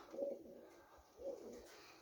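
Two soft coos from racing pigeons in a loft, about a second apart, quiet and close in an otherwise calm space.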